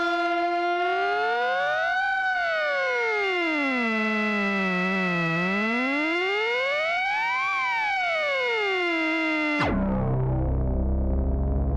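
An Ensoniq ESQ1 synthesizer plays a siren patch: a bright, buzzy tone glides slowly up and down in repeated wailing sweeps, then cuts abruptly to a lower, rougher sound near the end.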